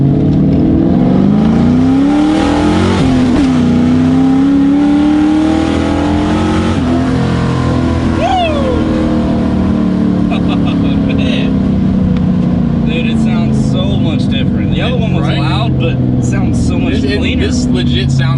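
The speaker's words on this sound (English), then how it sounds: "This legit sounds like a freaking race car." A car engine at wide open throttle roars loud and close, revving hard with rising and falling pitch for a sustained stretch like a race car, with people talking over it.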